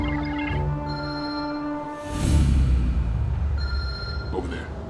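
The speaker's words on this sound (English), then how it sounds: "Call the phone." A mobile phone rings after being called, found by its signal in a cyberpunk sci-fi scene; a steady electronic ringtone tone is heard first, then gives way to a low rumbling noise.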